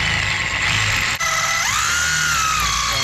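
Power drill boring through a metal bucket seat bracket on a Toyota Altezza, a loud steady whine with a brief dip and a rising pitch sweep as the bit bites, close up and alone.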